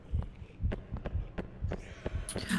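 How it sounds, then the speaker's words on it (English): Heartbeat effect in a haunted cafeteria horror game, a series of soft, low thumps in a steady rhythm with faint background hum. "And I hear a heartbeat."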